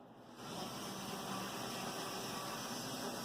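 An Athearn SD45 model locomotive fitted with Ernst gears running at full throttle, a steady close whirring motor hum with broad hiss that rises after a brief quiet start and holds constant.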